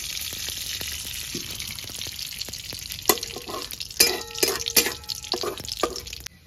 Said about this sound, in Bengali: এবার জিরের গন্ধটা বেরিয়ে গেছে, আমি সর্ষের তেলটা দিয়ে দেবো।